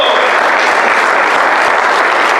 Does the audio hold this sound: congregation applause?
yes